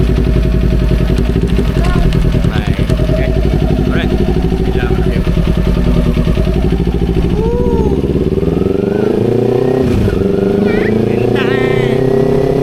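A Kawasaki Ninja 250 motorcycle engine runs steadily and loudly throughout, its pitch rising and falling slightly, while someone speaks briefly over it.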